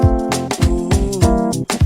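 A keyboard repeats a short praise-style vamp of rhythmic chords with punchy low bass hits, looping steadily and loud with no talking.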